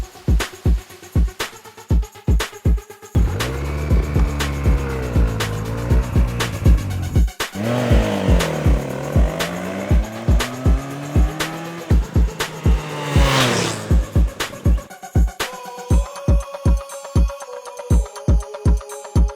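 Motorcycle engines of a Benelli Tornado TNT 300 and a KTM 390 Duke roar close by, revving up and down in rising and falling sweeps, with a steady ticking rhythm before and after the main burst.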